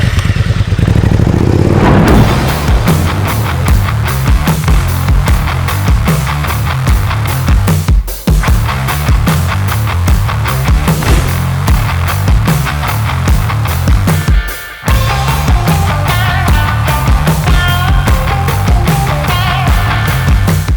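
A 2018 Suzuki SV650 V-twin motorcycle with a trellis frame, 75 horsepower, being ridden, its engine droning steadily and loud with throttle changes and a couple of brief dips, no talking.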